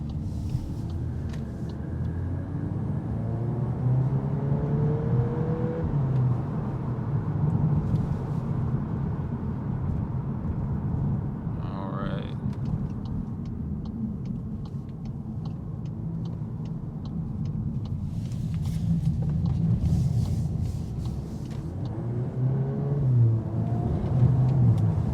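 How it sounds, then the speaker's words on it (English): A 2024 Volkswagen Golf R pulls away in sport mode, its engine a steady low rumble with rising revs through the run, heard from inside the cabin and continuous throughout. "setting out here in the Golf R. Now, the vehicle does start in sport mode."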